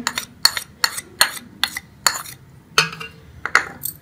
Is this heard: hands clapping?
no